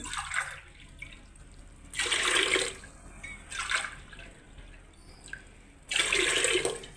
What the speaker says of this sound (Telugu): కడిగినవి కుక్కర్లో వేద్దాము ఒకటికి మూడు సబ్బియ్యం ఒకటి కదా సబ్బియానికి మూడు గ్లాసుల వాటర్